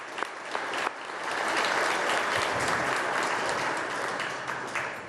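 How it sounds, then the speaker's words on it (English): Applause fills a room at a recognition breakfast for a food-drive campaign, swelling from scattered claps into a dense, steady ovation that holds for several seconds before thinning slightly. "So again, round of applause."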